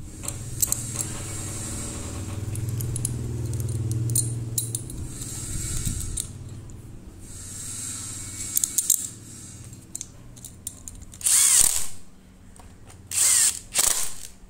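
Metal parts of a pneumatic nail gun being fitted back together after a broken spring was found, with scattered clicks and scrapes, a low hum early on, and a few sharp hissing bursts near the end, close and fairly quiet.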